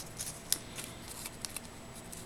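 Scissors snip paper for a handmade birthday card with a rosette. The cuts come as a few faint, close, crisp clicks scattered over a couple of seconds against a quiet background.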